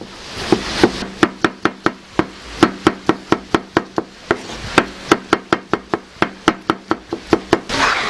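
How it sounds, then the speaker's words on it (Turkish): A steady series of sharp knife chops dicing tomatoes on a cutting board, roughly three per second, close and clear with brief pauses between runs. "Biraz küçük kuşbaşı doğrayacağım."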